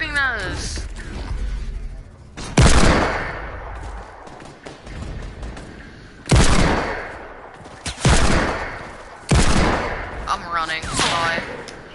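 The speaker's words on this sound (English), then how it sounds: "Stop shooting us!" Repeated loud, close gunshots ring out in several sharp bursts with echoing tails, mixed in with people shouting and talking throughout.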